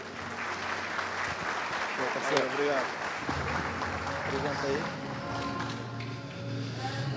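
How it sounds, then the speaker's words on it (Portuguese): Audience applause for a presenter at a Google Shopping marketing talk, a steady dense wash of clapping filling the whole stretch, with voices murmuring beneath it. "Uma salva de palmas para o Lucas."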